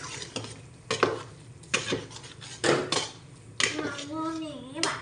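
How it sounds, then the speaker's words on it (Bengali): A spoon stirs food in a cooking pan in a series of spaced scraping strokes over a soft sizzle, with a voice briefly heard near the end. "এখন আমি নাড়াচাড়া করব।"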